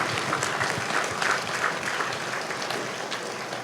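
A congregation at the Fatima feast celebration in Fatimapur, Nalgonda, claps for Mother Mary in sustained, moderately loud applause that swells briefly before easing off.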